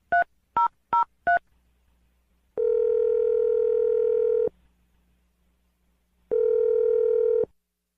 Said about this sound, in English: All right, let's dial the phone number